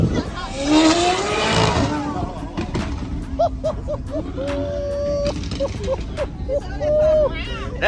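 McLaren pulling off at a Houston car meet, its engine rising and revving through short bursts with a brief squeal, heard amid crowd chatter and people talking nearby.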